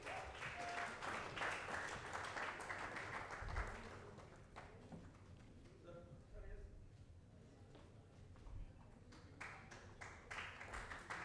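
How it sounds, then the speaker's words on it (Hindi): Audience applause for a guest choreographer at an awards open mic event, a broad wash of clapping strongest in the first few seconds, thinning mid-clip, then swelling again near the end, with crowd noise and some voices beneath. "जोरदार तालियां सर के लिए।"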